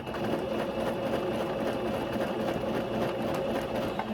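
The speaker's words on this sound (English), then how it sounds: "And then you're just going to sew a straight line." A sewing machine runs a straight line of stitching on tulle for a tutu skirt, a steady, continuous mechanical whir held close and unbroken, with no talking.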